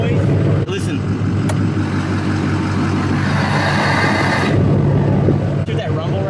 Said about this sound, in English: Hear that rumble right there? It means that the turbo's off.